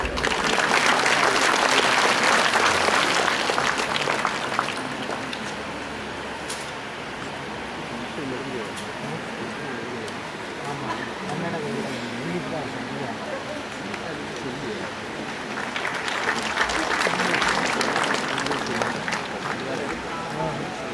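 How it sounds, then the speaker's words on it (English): Seminar audience clapping in a hall, a loud burst of applause that eases to a softer patter with voices mixed in, then swells again near the end. "May I have a big clap, please?"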